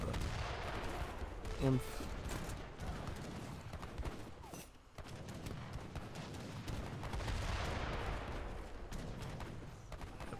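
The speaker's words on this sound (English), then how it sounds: "Here comes the artillery, going after" Artillery fire and gunfire in a real-time strategy battle in Age of Empires 3 Definitive Edition, dense and continuous booms and crackle with cannon shelling buildings, while a voice talks over it.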